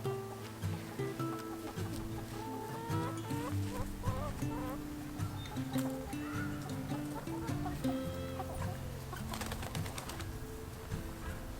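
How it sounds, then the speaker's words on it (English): A loose chicken clucking outdoors in a garden in the morning, its calls blended with a dense, busy layer of other sounds that carry on steadily throughout. "There's a chicken out."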